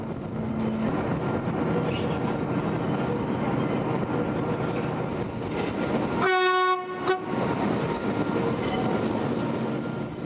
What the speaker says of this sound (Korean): 6량의 기차가 안데스의 심장을 뚫고 달린다.